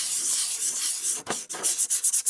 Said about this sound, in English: A little bit of sanding there, and a little bit of sanding here.